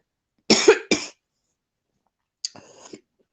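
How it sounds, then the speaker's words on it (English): A person coughs twice in quick succession, close and clear, followed after a pause by a softer, rougher third cough. "I'm just gonna have to cough"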